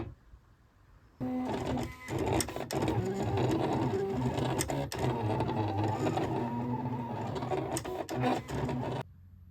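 A Silhouette Cameo cutting machine starts up and runs for several seconds with a whirring motor and busy mechanical buzzing, then stops abruptly near the end.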